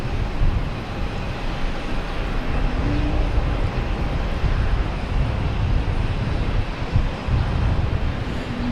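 A JetBlue Airbus A220 jet rumbles at Boston Logan, a loud, heavy, continuous engine roar with deep low-end thunder and a faint whine, steady throughout and without voices.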